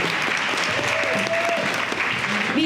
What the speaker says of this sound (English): let's give a big round of applause for Dr. Tuby and the Ask Anything for Business panel